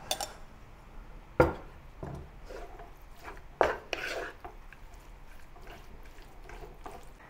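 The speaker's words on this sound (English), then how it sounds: "Mix the marinated beef with the spice paste in a wok." Marinated beef stirred through spice paste in a wok for Malay soy sauce beef, with a couple of sharp utensil scrapes and knocks against the pan over soft, quiet sizzling.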